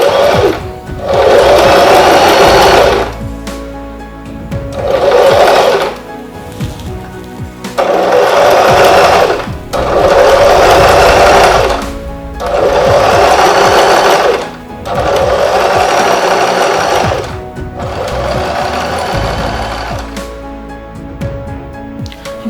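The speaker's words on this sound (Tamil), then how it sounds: "நான் அப்படியே வந்து ஃபுட்டர் போட்டு மோட்டர் ரன் பண்ணுறேன்" Singer Start 1306 sewing machine motor running in repeated bursts of a few seconds each, separated by short pauses, as it sews an overlock-style zigzag stitch; steady, close and loud, with no talking.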